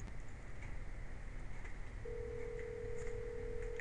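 A steady electronic ringing tone on a phone call placed through Gmail starts partway through and continues, over a constant low hiss.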